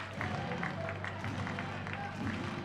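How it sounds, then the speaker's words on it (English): A baseball crowd at an Arkansas vs Springfield game cheers and claps steadily for the pitcher Ralston, a broad sustained roar of applause from a distance. "the crowd getting behind Ralston now"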